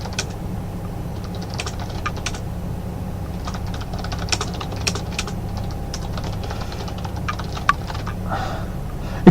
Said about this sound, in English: It's amazing how your fingers get used to typing the weirdest things.